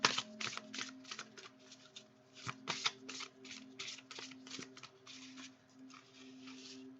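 Oracle cards being shuffled and drawn from a deck, a rapid run of crisp papery flicks and riffles close by, with a faint steady hum underneath.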